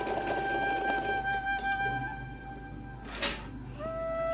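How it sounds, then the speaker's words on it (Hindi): Sewing machine stitching fabric for a small doll dress gives a steady mechanical whir with a brief pause near the end before it picks up again, close and moderately quiet. "सिलाई करनी है।"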